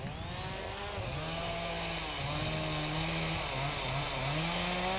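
A chainsaw cutting branches from a felled tree in forest logging work, its engine droning steadily and loudly with shifting pitch as it bites through the wood, with no voices.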